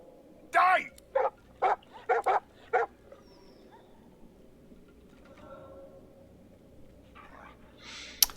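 A hound in the Divinity Original Sin II fantasy game gives a quick series of about six sharp barks and yips close up, then falls quiet under a low ambient bed, with a faint rustle at the end.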